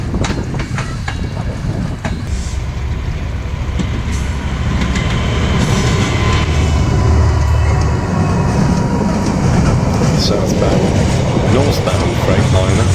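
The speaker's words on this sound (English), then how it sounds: "Northbound Freightliner" A northbound Freightliner freight train runs along the main line near a busy railway junction at Leamington. Its rumble and wheel clatter stay loud and steady the whole time, with some speech faintly under it.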